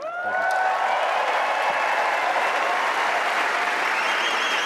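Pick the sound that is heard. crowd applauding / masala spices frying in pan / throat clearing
crowd applauding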